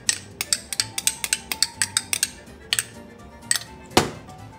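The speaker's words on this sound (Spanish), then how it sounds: "Y voy a seguir batiendo" A whisk clinks rapidly against a bowl while spirulina is beaten into almond oil, a quick rhythmic series of close metallic taps followed by a few scattered clinks and one louder knock near the end.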